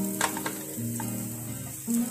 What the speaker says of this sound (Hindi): इसको अच्छे से फ्राई कर लेंगे